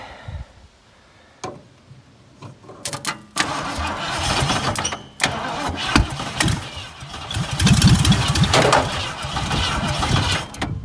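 A 1970 Ford Fairlane engine cranks in loud uneven bursts with the solenoid jumped, sputtering and catching briefly with sharp pops and a backfire, then running roughly and loudly near the end.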